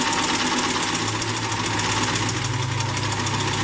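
A sewing machine stitches all the way around a double-sided hat, its motor humming steadily with a fast, even needle rhythm, loud and close, with no talking.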